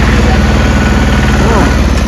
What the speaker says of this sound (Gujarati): મારો ટ્રેક્ટર આવી ગયું છે